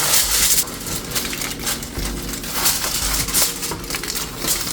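Sheet of aluminium foil crinkled and pressed over a baking pan while making bolillos, a loud close crackling and rustling that runs continuously with a few heavier crunches.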